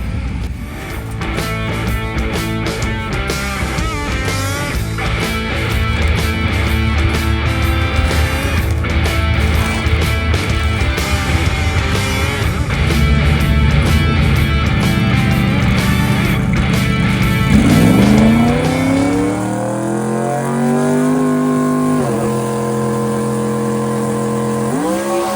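Drag race car engine screaming at full throttle for a long pass down the track, loud and sustained with layered harmonic roar, then dropping pitch as it lifts and shifts near the end into a lower idling drone.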